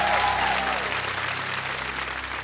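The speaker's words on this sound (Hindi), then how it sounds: "जोरदार तालियां बज जाए एक बार।" A television quiz show studio audience claps loudly and steadily for a couple of seconds, with the dense applause continuing throughout.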